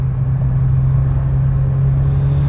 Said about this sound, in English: I'm actually really surprised with the stock exhaust as well. It's definitely bassy enough.